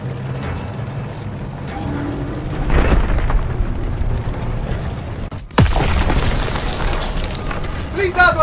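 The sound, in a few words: tank cannon explosions in video game Call of Duty: WWII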